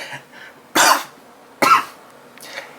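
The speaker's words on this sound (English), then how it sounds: "And then I inhale saliva, which makes me cough, of course." Two sharp, loud coughs about a second apart, triggered by inhaling saliva, followed by a fainter throat sound, with quiet room noise between them and no talking.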